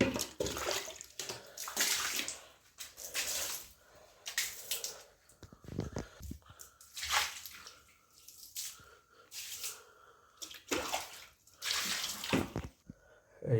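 Water sprayed by hand over the walls and floor of an oyster mushroom growing room to raise humidity, coming in repeated hissing, splashing bursts with short gaps between them, fairly close.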